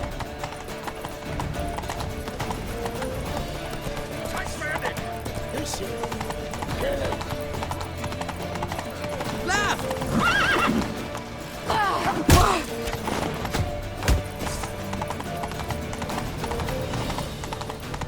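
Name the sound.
horses galloping, from a video game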